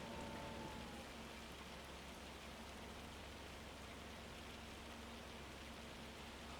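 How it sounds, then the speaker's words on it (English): Steady rain falls in a farming video game with tractors and planting, a constant even hiss at a faint, unchanging level with a low hum underneath and no talk. "Also, it still has not stopped raining yet"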